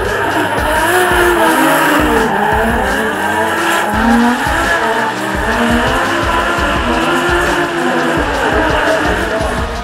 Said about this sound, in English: The V-Energy R34 Skyline lining up against top qualifier MattyHill in the 4-man's automotive S15.